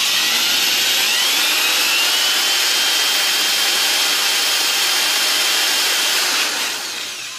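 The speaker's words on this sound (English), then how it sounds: "loud drill" A loud, steady high-pitched whine of an electric drill running continuously, a thin rising tone near the start, easing off slightly at the end.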